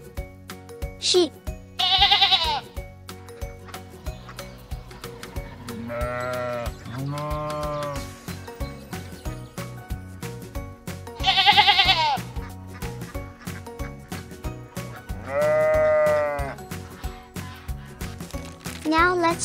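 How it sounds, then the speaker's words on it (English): Several sheep-like bleats, wavering and nasal, come in separate bursts over a busy musical backdrop, some louder and closer than others. "Sheep."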